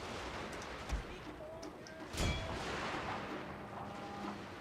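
Musket volleys crackle in the Shogun 2: Fall of the Samurai battle game as a rippling, mid-distance line of overlapping shots under a dense battle din, with a couple of sharper reports standing out.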